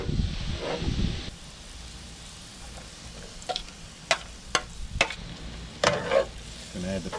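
Butter sizzles in a hot pan, a crackling hiss that fades quickly after a few seconds and gives way to scattered sharp clicks and taps of cookware.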